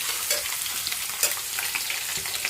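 Onion and green chili hit hot oil in which dried red chilies have already fried, making a dense, close sizzle with a few brief stirring ticks and no talking.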